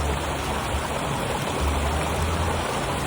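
A mountain stream flowing near Seoul, with a steady, dense rush of water heard up close and loud throughout and no voices.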